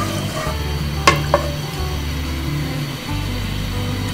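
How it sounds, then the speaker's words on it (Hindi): Onions frying in ghee for a chicken and pumpkin curry, a steady loud sizzle with a couple of sharp clinks from stirring, close by and without talk. "घी में प्याज हमने ऐड किए"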